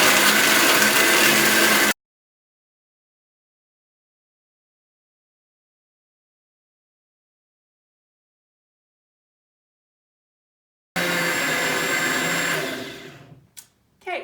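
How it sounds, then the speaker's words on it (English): A strong countertop blender runs loud and steady, whirring through almonds and water for almond milk in two bursts separated by a long silent gap, the second winding down and stopping near the end. "Depending on the strength of your blender, it'll take between 30 and 60 seconds to blend the nuts with the water"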